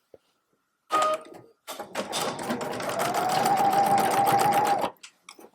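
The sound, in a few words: sewing machine stitching a seam across a tote bag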